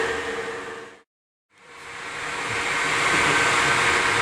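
A 17-inch by 68-inch YCI Supermax LG-1768H engine lathe runs under power with a steady broadband whir. The sound cuts out for about half a second, then spins back up and holds loud and constant.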